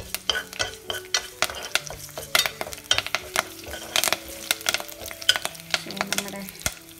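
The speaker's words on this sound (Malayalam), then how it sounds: "കടുക് പൊട്ടി വന്നു" Mustard seeds crackling and popping in hot oil while tempering for varutharacha sambar, rapid irregular sharp pops over a soft sizzle, with a ladle clinking against the pan.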